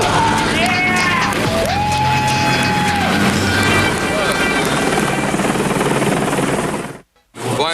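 A helicopter roars loud and close in a steady, dense drone with whining tones over the rotor noise, while people talk and cheer over it before it cuts out briefly near the end.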